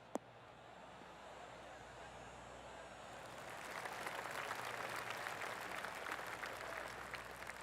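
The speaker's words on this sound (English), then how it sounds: "Oh, golf clap." Soft, scattered golf clap applause from a small crowd in the video game PGA 2K21, building gradually and pattering steadily, with a brief sharp tap at the start.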